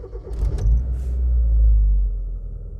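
A 1974 Mazda 1000 idles with a steady, low engine rumble that swells slightly midway, alongside a few faint jingling clicks early on; nobody speaks.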